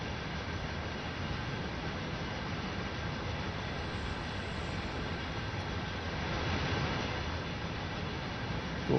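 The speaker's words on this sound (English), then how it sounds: "We've got another freight train there coming in." An arriving freight train in the Train Sim World 5 simulator gives a continuous heavy rumble and roar, loud and unbroken, swelling slightly toward the end, with no voices.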